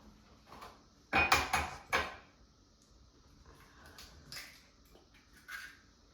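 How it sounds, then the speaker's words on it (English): An egg is cracked into a mug for a microwave Nutella brownie, a quick cluster of sharp knocks and clinks followed by softer handling noises in a quiet kitchen. "I'm going to crack 1 egg in the mug."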